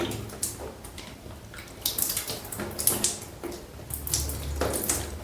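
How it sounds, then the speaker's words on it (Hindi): Water splashes and drips from a tap into a basin while someone draws water into the nose during ritual washing, with uneven bursts of splashing and trickling close by. "उसके बाद 3 बार नाक में पानी चढ़ाएं दाएं हाथ से।"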